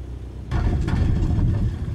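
Aircraft touching down and rolling along a runway in a flight simulator game, a sudden jump to a steady, loud low rumble after a quieter first half-second, with no talking.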